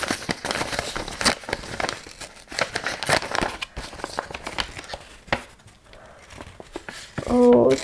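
Crinkling and tearing of packaging as a parcel of plant cuttings is opened, busy rustles and crackles coming in bursts, close and fairly loud, ending in a louder burst.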